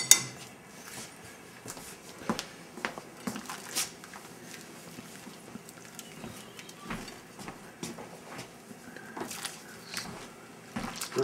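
Homemade spaghetti is stirred in a pot with a utensil, making sparse, irregular clinks and scrapes of metal against cookware. The clatter comes close by over a quiet kitchen background.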